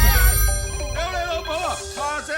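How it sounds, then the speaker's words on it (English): Several phones ringing at once with warbling electronic tones that overlap and rise and fall in short bursts, loud and close over a low background rumble. "all their phones began ringing again."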